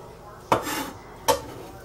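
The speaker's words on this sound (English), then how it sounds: "We'll give that a good mix." Two quick scraping clanks of a spoon against a pot as shepherd's pie filling with chopped fresh rosemary is mixed, each a short metallic knock followed by a brief rustle, close and moderately loud.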